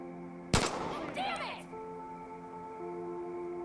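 A single sharp burst of video game gunfire cracks out, followed by a short ringing tail and a low electronic hum, with someone talking just before it.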